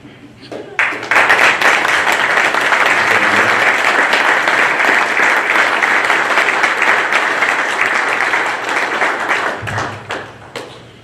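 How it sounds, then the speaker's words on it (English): Indoor audience at a golf association's annual meeting applauds to welcome new section members, a loud sustained burst of many hands that builds quickly, holds steady, then tapers off with a few scattered claps. "so that we can give you a round of applause and welcome you to the section"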